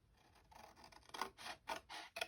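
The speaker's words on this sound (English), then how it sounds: "And then I'm going to cut these two bottom squares away as well." Scissors snip through card squares for a triangular gift box, a series of close, quiet cuts that quicken into several distinct crisp snips toward the end.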